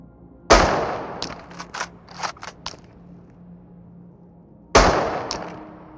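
Two loud Mosin rifle shots in the game Into the Radius, a few seconds apart, each sharp crack followed by a decaying echo, with metallic bolt-cycling clicks between them.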